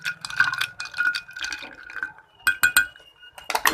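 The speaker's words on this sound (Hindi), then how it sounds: "बादाम वाला वो शामिल कर दूंगी। इसे अच्छे तरीके से मिक्स कर लूँगी।" A spoon clinks against a glass while almond sharbat is stirred, a quick run of bright metallic taps with a splash of liquid, then a short pause and a second burst of rapid clinking.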